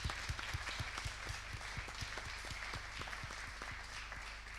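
Sustained applause from a forum audience in a large hall, a wash of many hands with distinct individual claps audible throughout, moderately distant and fairly quiet.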